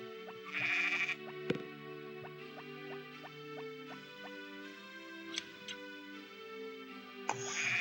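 Sheep in the farming game Harvest Moon bleat in short synthesized calls, with a cluster near the start and another near the end, over steady looping game music with small ticking plinks.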